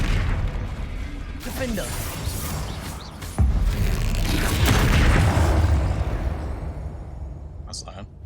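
A Confringo blasting spell in Hogwarts Legacy detonates with a loud, deep boom followed by rumbling debris and lingering crackle, heard under a player's voice calling out spell names.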